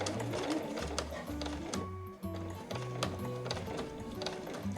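A domestic sewing machine stitches the seam of a handmade body bag in short bursts of rapid, rhythmic clatter, starting and stopping several times with a brief pause in the middle, close and clear.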